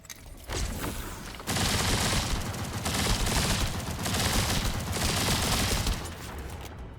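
Rapid automatic gunfire in The First Descendant, a dense, loud, continuous burst of shots roaring for several seconds with brief dips, sounding close and alone without talk.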